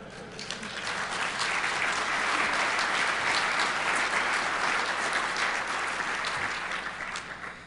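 A hacker conference audience breaks into applause during a talk on hacking .NET applications, a dense round of clapping that swells up, holds steady for several seconds, then tapers slightly at the end.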